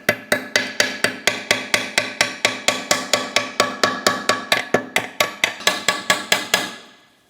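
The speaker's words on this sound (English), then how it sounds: "Just a small ball peen hammer." A small ball peen hammer strikes a rusted control arm bushing port on a 2004-2008 Pontiac Grand Prix, about two dozen sharp metallic taps in an even, rapid rhythm, loud and close, before ringing out into silence.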